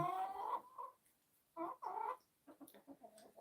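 Free-range backyard chickens cluck and murmur nearby in several short, clear bursts with brief pauses, the last a run of rapid staccato clucks.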